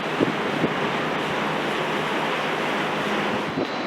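Gusty wind buffets the microphone beside rolling sea swell at a harbour pier in Funchal, Madeira, a steady roaring rush of wind and surf with a few low thumps, no voices.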